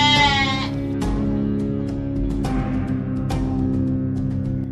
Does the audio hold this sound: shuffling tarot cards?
no